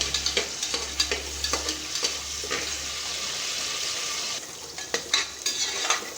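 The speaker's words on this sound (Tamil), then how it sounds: "அது கூடயே சின்ன வெங்காயம் ஒரு சின்னம் எண்ணெயிலே நல்லா வதக்குங்க" Small shallots sautéing in oil for a duck and chicken curry, with constant sizzling and a quick series of rhythmic spatula scrapes and taps against the pan, easing off briefly before resuming.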